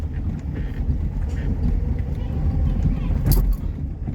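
A Tata Nano car driving with its engine running low and steady throughout, a learner driver shifting into second gear, with a brief louder burst near the end and talk in the car.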